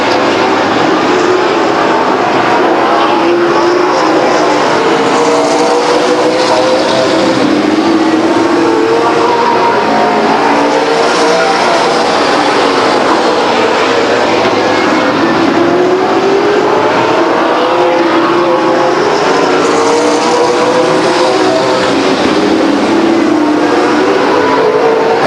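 Stock cars race around the oval at Stockton 99 Speedway, engines roaring loudly and continuously as the pack passes, with rising and falling pitch sweeps from cars circulating, saturated and unbroken for the whole stretch.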